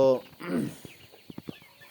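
A Plymouth Rock hen on a small farm gives a loud cluck at the start, then a series of short, soft clucks spaced irregularly toward the end.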